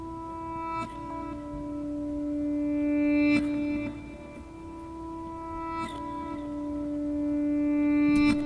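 A sparse acoustic guitar lead riff of sustained, ringing notes with heavy reverb, a few picked accents repeating slowly over a soft wash of background noise.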